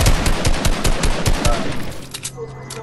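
Rapid bursts of gunfire in Fortnite aimed at a box, a fast rhythmic volley of sharp shots that is loud and close, thinning out toward the end with a low sustained tone underneath.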